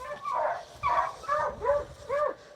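Beagle pack in Kentucky baying and barking in repeated bursts, roughly five close howling calls with short gaps, moderately loud over a faint background.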